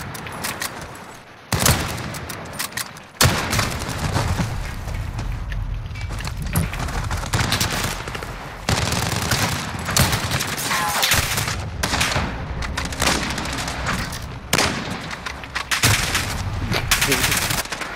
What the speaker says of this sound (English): Damn, bro, I'm missing those easy shots.